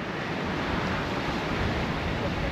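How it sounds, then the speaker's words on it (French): Big ocean waves near Gaspé roar steadily behind a moving boat, a loud continuous rush of surf mixed with wind buffeting the microphone, with no voices. "Il y a des grosses vagues qui se forment derrière nous."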